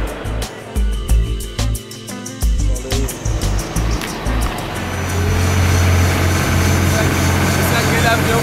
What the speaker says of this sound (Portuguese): Esse é aquele avião que você tem que dar um totozinho na hélice pra ela rodar